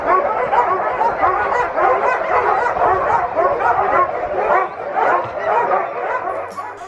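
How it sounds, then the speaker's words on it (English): A pack of huskies at a dog sled camp barking, yipping and whining all at once, a dense continuous clamor of many dogs, loud and close. "when a sled is loading up, they just all start barking like, pick me, pick me, pick me"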